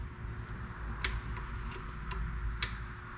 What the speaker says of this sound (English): There's a pretty distinct click.